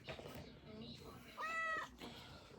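A pet cat meows once, a short tonal call in the middle, surrounded by quieter indoor room noise and movement near a stack of comic books.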